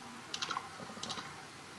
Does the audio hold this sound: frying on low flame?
no